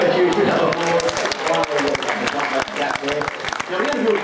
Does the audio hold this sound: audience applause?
yes